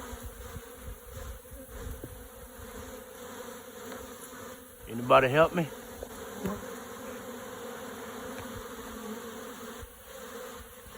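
A queenless honeybee swarm buzzes in a small oak tree in a bee yard, a steady low drone with individual bees passing near, and someone briefly speaks over it.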